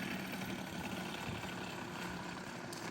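A weed whacker engine bolted onto a pedal bike drones steadily and loudly at a fairly even pitch, with no voices.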